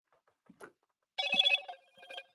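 A phone rings in short electronic bursts, a faint chirp followed by a louder warbling ring and a softer repeat, set against silence with no talk.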